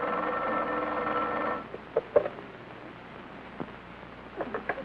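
A telephone rings with a steady buzzing bell tone for about a second and a half, then cuts off. A few soft clicks and knocks follow in a quiet room.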